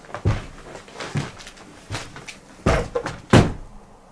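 An apartment door opening and closing, heard as several dull thumps and knocks spread unevenly over a few seconds, with two louder bangs near the end and no talking.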